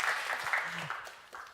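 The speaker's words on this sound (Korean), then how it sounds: "한번 박수 한번 쳐주세요" Brief scattered applause from a church congregation during a Wednesday service, moderately quiet with some voices mixed in, fading after about a second and a half.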